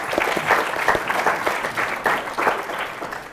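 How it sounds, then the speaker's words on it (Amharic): An audience gives warm applause for children competing in a quiz on a television stage, a dense, steady burst of clapping that fills the whole moment. "አጨብጭቡላቸው እስቲ በደንብ።"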